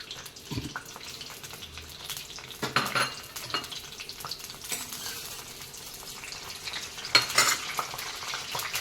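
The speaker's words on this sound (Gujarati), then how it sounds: "આ તમાલપત્ર છે અને આ સૂકા લાલ મરચાં છે અને આ લવિંગ છે 4 એ નાખી દઈશું" Bay leaf, dried red chilies and cloves go into a hot pan for methi khichdi, crackling in a busy sizzle with scraping stirs and occasional metallic clinks throughout.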